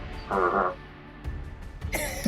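A voice imitates a toad's croak in two short throaty bursts, a wobbling croak near the start and a rougher one near the end, close and fairly loud with nothing else going on.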